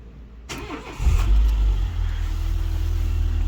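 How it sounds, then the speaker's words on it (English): A Dacia Logan's engine cranks and catches, then settles into a steady, close idle rumble. "I can start the car."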